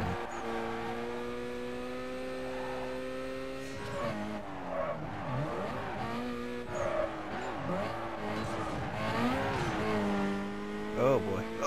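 Car drifting in Need for Speed: Carbon on a canyon course, a sustained engine drone with revs rising and falling and tire squeal through the turns, while a player talks over it.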